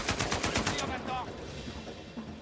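Automatic gunfire in the Uncharted 4 video game, a quick burst of repeated shots up front that fades into game ambience, with a voice faintly underneath.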